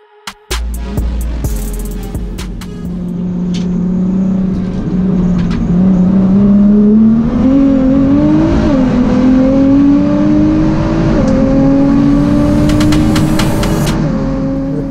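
A 930 HP Nissan GT-R built by a Nismo center runs loud and close, its engine droning steadily and then climbing in pitch through several revs with intake whoosh and a few sharp clicks, no talk over it.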